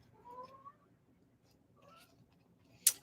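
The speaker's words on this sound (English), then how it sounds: "I hear the cat somewhere" A cat meows somewhere indoors, a faint rising cry early on and another short call later, quiet and distant, ending with a brief sharp click.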